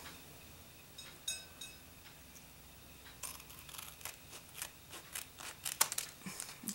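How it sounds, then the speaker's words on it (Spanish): Scissors snip through juice carton packaging in a quiet room: a few isolated cuts early, then a quicker run of crisp, close clicking snips, with no talk. "Ok, y voy a recortar este otro."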